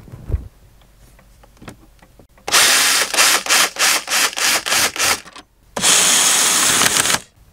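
Bolts and clamps come off an engine doghouse cover: faint clicks, then loud close bursts of a power driver whirring in short pulses, a pause, and one more sustained run.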